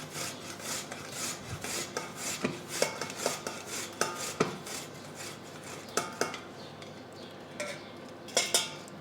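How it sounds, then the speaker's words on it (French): Cooked potatoes, just done inside, are rubbed across a rösti grater in a kitchen, giving steady close scraping strokes with occasional sharper clicks of the tool against a bowl or board. No voices are heard. "Et là on va venir râper nos pommes de terre."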